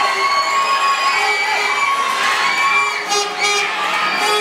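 Supporters roar and cheer nonstop at the men's 70kg bodybuilding final of the 24th Southeast Asian Games in Thailand, with a dense crowd of shouts, whoops and high voices filling the hall at a steady, loud level.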